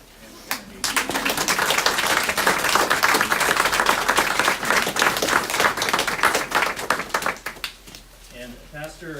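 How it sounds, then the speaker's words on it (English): Lively applause at a church home dedication gathering, a dense burst of many hands clapping that starts after a brief pause and carries for several seconds before thinning out as a voice comes in at the end. "let's just have one more round of applause for Lauren and Kennedy."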